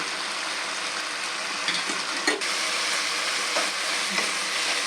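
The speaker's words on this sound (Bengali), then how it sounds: "লঙ্কা দিয়ে দিলাম ভাজা ভাজা করে নেব" Green chillies frying in a pan while cooking mocha bata, a continuous close sizzle with light stirring clicks and scrapes throughout and no voices.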